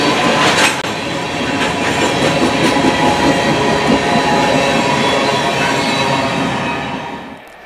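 CSX GE freight locomotives, including a 2007 GE ES44AC, haul a train passing close by, loud continuous rumble with clickety-clack of wheels and some wheel squeal, fading out at the end.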